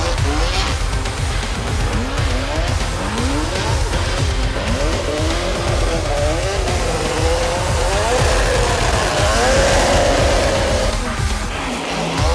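Drift car tires squealing during qualifying at Formula Drift Japan, a loud continuous wavering screech over roaring engine noise throughout, close and intense with crowd or commentary sound mixed in.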